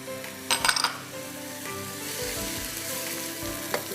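Whole garam masala of cloves, black peppercorns, cinnamon and cumin sizzles steadily in hot oil, with a few bright crackles and a light clink of a utensil against the pan.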